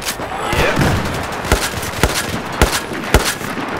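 Gunfire in Battlefield 4 cracks out in sharp, separate loud shots at a roughly steady pace, set against a busy in-game background.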